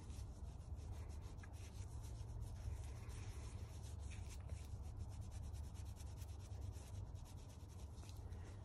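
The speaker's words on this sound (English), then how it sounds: "So you just want to keep rubbing it around until everything is silver." Faint, steady rubbing as silver plating with water is worked around a piece of jewelry, a continuous soft scouring hiss with no pauses.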